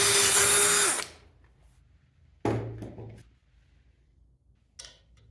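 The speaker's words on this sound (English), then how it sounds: "I'll drill a hole there and secure the nut using an Allen wrench." Power drill boring a hole in wood for a threaded nut in a woodworking project: a loud steady whine for about a second that stops abruptly, then two short bursts of drilling a moment apart, close up with no talk.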